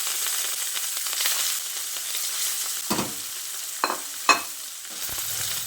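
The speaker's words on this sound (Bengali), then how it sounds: "এবার বাকি মাছগুলোও ভেজে নিচ্ছি।" Pieces of katla fish fry in hot oil with a constant bright sizzle. Near the end come a few sharp utensil knocks and scrapes as the pieces are moved, with no talking.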